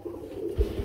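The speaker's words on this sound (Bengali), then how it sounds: "আমরা এখানে দেখতে পাচ্ছি খুবই সৌন্দর্যময় বিগ সাইজের মধ্যে আরেক জোড়া কবুতর চলে আসছে" A pair of large Sirazi pigeons gives low, soft cooing, with a couple of deeper throaty pulses near the end of the brief stretch.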